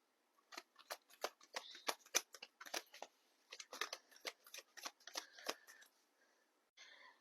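Playing cards being handled and flicked in quick, crisp bursts of snapping and shuffling, close and clear with brief pauses between runs.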